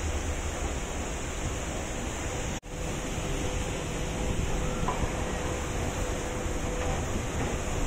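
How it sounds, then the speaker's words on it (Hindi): Water falls steadily in an outdoor spot near a lift during an Umrah trip, a continuous broadband rush that stays loud and even throughout, with one brief dropout partway. "पानी गिर रहा है इधर"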